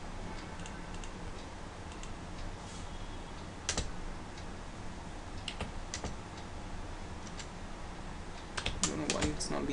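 Code being typed on a computer keyboard, with scattered soft key clicks and a few sharper taps over a steady background hiss, close but quiet.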